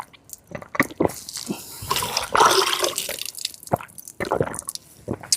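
Cold water runs from a pipe high up at Songarh Fort, splashing and dripping close by in uneven bursts, with no talking.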